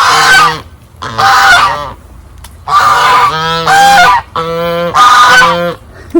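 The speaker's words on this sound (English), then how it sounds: "I'm in the garden, and the geese are here talking." Geese in a homestead garden honk loudly and close by in repeated bursts, several calls overlapping with short gaps between them, with no talk.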